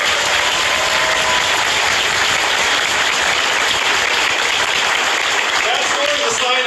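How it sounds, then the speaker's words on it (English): A large crowd at a political speech and Q&A in Las Vegas, Nevada, applauds loudly and continuously, a thick roar of clapping filling the whole stretch without pause. "Let's give him a round of applause."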